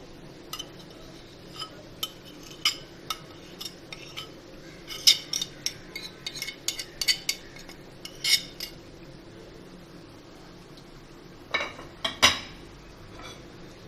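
A spoon clinks against a metal pot while homemade biryani masala spices go in for a Karachi-style chicken aloo biryani, giving a scattering of light, sharp metallic taps with a louder double clink near the end.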